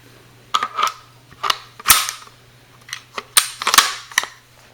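A German K98 Mauser rifle bolt is worked and pulled out, giving a series of sharp, close metallic clicks and clacks in uneven bursts, with quiet gaps between them.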